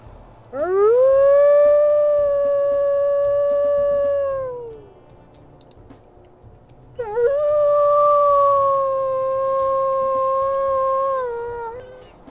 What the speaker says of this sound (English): we'll listen to the howls as well